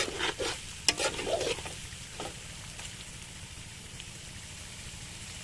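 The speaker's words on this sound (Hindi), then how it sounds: "चिकन को भूनते हुए मैंने 15 मिनट के लिए भून लिया है" Chicken browning on low gas in a pan, with a few scraping stirs early on over a steady, gentle sizzle that continues quietly on its own.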